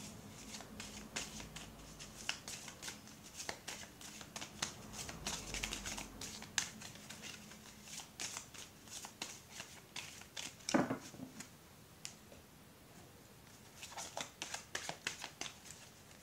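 Playing cards, likely tarot cards, shuffled by hand in a quiet room as a rapid run of soft riffling and flicking clicks, steady for most of the stretch with a few louder snaps, and no talking.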